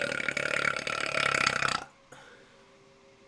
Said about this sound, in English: lot of burps in this video